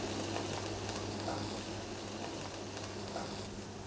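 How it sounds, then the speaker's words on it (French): Cheese bonbons made with Alpine cheese sizzle steadily in hot deep-fryer oil, a dense, even crackle that holds at the same loudness throughout with no voices. "Maintenant, donc je vais tremper les bonbons dans la friteuse."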